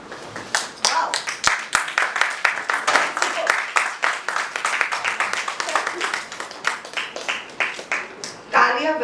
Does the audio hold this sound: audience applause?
yes